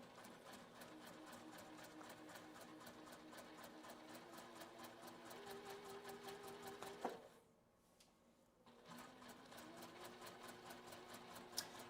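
A sewing machine chain-pieces four-patch quilt blocks for a cat bed, a quiet fast rhythmic stitching that runs steadily, stops briefly, then starts again.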